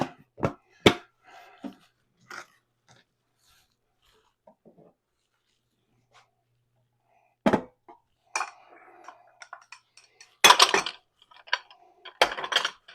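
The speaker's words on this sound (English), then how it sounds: "Now I got a lot of dishes to do." Scattered clinks and clatters of pots and dishes being handled, with quiet gaps between the knocks and a busier burst near the end.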